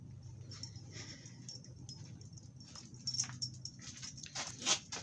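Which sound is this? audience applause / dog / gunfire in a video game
dog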